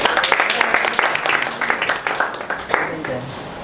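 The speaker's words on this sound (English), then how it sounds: "Give a clap for all of you." A small group at a meeting claps in an uneven patter that gradually thins out, close and fairly loud.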